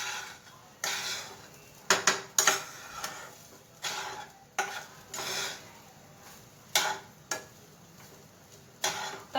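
Rice being stir-fried in a pot for fry bhat, with a utensil scraping and clacking against the pot in irregular bursts over a low background hiss, close and moderately loud.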